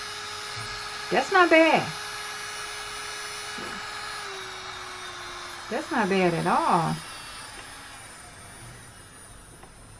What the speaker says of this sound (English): I like this little drill.